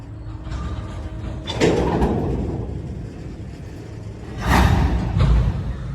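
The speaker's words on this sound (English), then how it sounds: "they're hooking up with the cars they left here" Heavy metallic clanks and thuds from freight railcars coupling in Beecher, Wisconsin, two main impacts over a steady low rumble of idling machinery in the distance.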